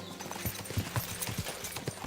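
A horse in the video game Kingdom Come Deliverance 2 clip-clops with sharp, close hoof strikes in an uneven trotting rhythm, standing alone without talk.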